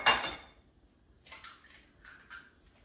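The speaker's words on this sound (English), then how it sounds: "So I will crack the egg" An egg is cracked into a bowl: a sharp close tap and crack at the start, followed by a few lighter clinks and shell and liquid sounds against the bowl.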